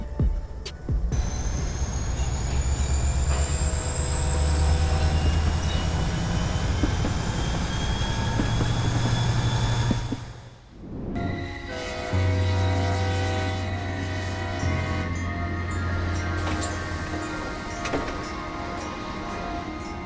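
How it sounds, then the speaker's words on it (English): A steady rumbling ride on the Orient Express heading to Vienna, with a low hum and rail noise, a brief dip midway before the rolling continues, with high whining tones over it. "Mr. Maxwell and Matthias and Miss Smith returned on the train on their way to the Vienna station."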